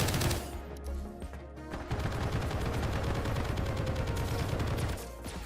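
Turret in the indie video game Project Onyx firing at the player, a rapid continuous stream of shots after a brief pause, loud and sustained, then tapering off at the end.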